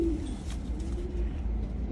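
Pigeons in a breeding loft cooing, a low steady murmur of calls over a constant background hum, fairly near and continuous.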